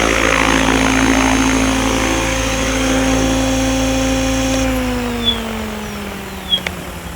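An OMPHOBBY M5 RC helicopter hovers close by with a steady high rotor whine, then spools down and the pitch falls gradually as the rotor slows. Outdoors at a flying field, with no talking.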